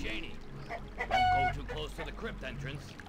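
A chicken in the video game Arx Fatalis clucks in short, soft bursts, fairly quiet and close, with a louder squawk near the middle.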